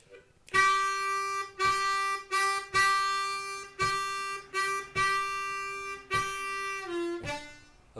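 Harmonica playing the closing two bars of a slow 12-bar blues, a series of sustained, reedy draw and blow notes in short phrases with brief gaps, close and clear with no voices.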